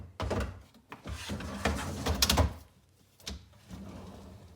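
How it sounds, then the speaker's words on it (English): A drawer is slid into a kitchen base cabinet on its rails, giving a series of close knocks, scrapes and a final thunk as it seats. "now I'm going to put the top drawer in"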